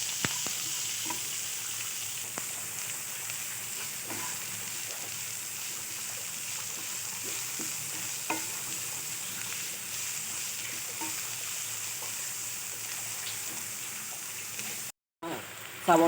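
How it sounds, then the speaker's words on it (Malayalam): Finely chopped onions sauté in a pan, browning for a mushroom gravy curry, with a steady close sizzle and occasional faint stirring ticks for the whole stretch. The sound drops out briefly near the end. "ഇനി നമുക്ക് ചെറുതായിട്ട് അരിഞ്ഞ് വെച്ച സവോള ചേർത്ത് കൊടുക്കാം"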